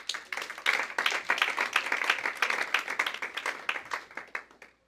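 A church congregation applauding, a dense sustained round of clapping that builds quickly, holds steady, then tapers off into a few scattered claps.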